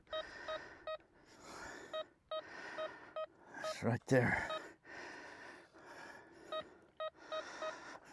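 A Pancky PK-0075 metal detector signals a target with a string of regular, evenly spaced tonal beeps, close and clear, while someone speaks briefly and something rustles loudly midway.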